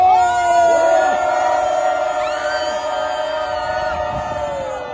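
A rally crowd calling for President Yoon Suk-yeol's impeachment in Yeosu raises a long, loud collective shout, many voices sustained together on a drawn-out cry that slowly fades.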